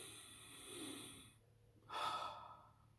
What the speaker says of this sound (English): By me breathing in through my boogers and exhaling